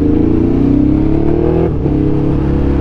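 A Ducati Scrambler Next Gen motorcycle engine revs loudly up close, its tone climbing steadily before a brief dip and then holding a high, droning pitch.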